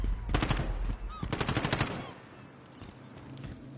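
Bursts of rapid automatic gunfire from a weapon fired from the hip in the Modern Warfare video game, two close, fast volleys in quick succession that fade into quieter game ambience.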